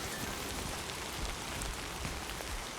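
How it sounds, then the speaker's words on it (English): Steady, dense rain patters and hisses across surfaces in the video game Death Stranding 2, an even, enveloping downpour with no other sounds. "You know what would be awesome is if the rain would stop."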